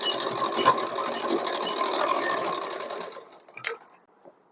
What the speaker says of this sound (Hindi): उसके बाद हल्की सी एक सिलाई हम एक और लगा देंगे बिल्कुल किनारी पे